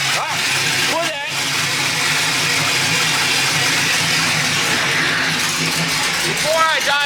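A car engine idles steadily with a constant low rumble throughout, while people talk intermittently over it.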